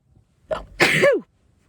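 A single loud, close sneeze, with a short sharp intake of breath just before the burst, in otherwise quiet surroundings.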